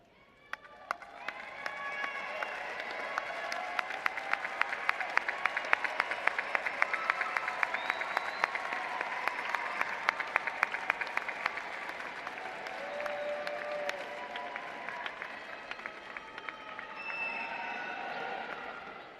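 A large crowd of graduates at a university spring commencement applauds, swelling from a few claps into sustained, dense clapping that rolls on for many seconds in a big reverberant hall, with faint cheers.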